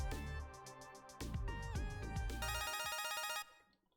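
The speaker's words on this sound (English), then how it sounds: "And a phone call, apparently." Electronic phone ringtone in a video game, a melodic synthetic tune with rapid warbling tones that plays loudly for a few seconds and then cuts off.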